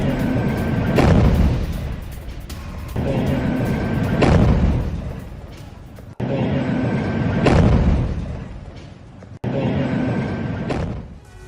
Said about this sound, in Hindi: धमाके के साथ इजरायली बुलडोजर कैसे उड़ा